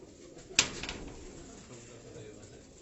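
Racing pigeons being handled give soft, low cooing under a sharp knock, while people talk nearby.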